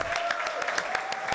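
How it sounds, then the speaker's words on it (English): An audience at a church service applauds to welcome a performer on stage, with sharp, fairly regular claps repeating steadily rather than a roaring ovation. "So, would you, by way of thunderous applause, please welcome my friend, Jed!"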